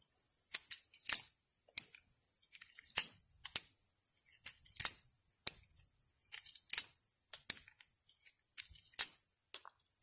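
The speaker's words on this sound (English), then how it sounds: "it requires that we use a ramrod here, also known as an ejector rod, to push out our spent shell casings." Sharp metallic clicks and brief clatters come from a Heritage Rough Rider .22 revolver as its ejector rod pushes spent casings out one by one, about a dozen distinct close ticks set against near silence.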